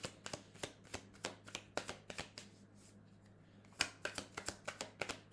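Tarot cards are shuffled by hand in a steady run of crisp riffling flutters, about a dozen quick bursts, a brief pause midway, then another fast cluster, close and fairly quiet over a low steady hum.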